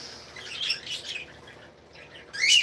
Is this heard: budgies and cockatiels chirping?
yes